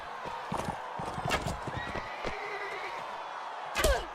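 In the Mount and Blade: Warband video game, a horse whinnies and hooves clatter in quick, uneven bursts during a horse archery round, with a sharp sound near the end.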